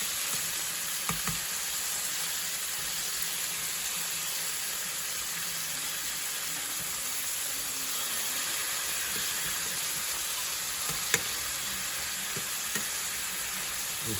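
Pork chop pinwheels sear in a hot pan with a constant bright sizzle and hiss, steady and close, broken by a few small pops.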